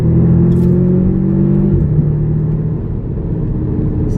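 A 2012 Audi TTS drives along with a steady low engine rumble and road noise; the engine tone steps down partway through as it downshifts, with no talk.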